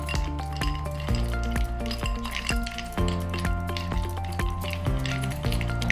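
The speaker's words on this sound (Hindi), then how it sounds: "इसके अंदर 2 से 3 आइस क्यूब्स डालेंगे। ठीक है। और इसको हाथ से फेंटेंगे" Ghee and ice cubes are beaten by hand in a bowl, giving repeated wet squishing strokes and clinks of ice against the bowl in a steady, close rhythm.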